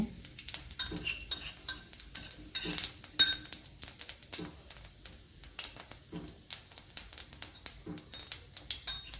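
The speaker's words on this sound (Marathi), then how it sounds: "जिरे टाकून घेणार आहोत जिरे छान परतुरायचे" Half a spoon of cumin seeds sautéing in hot oil as tempering for a safflower-leaf dish, a faint sizzle broken by repeated clinks and scrapes of a spoon stirring in the pan.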